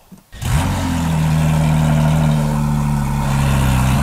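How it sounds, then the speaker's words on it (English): A Porsche 992 GT3 with a 4-liter naturally aspirated flat-six fires up from cold with a sharp whir and bark, then settles straight into a loud, steady high idle that holds without fading. "But first, let's do a cold start."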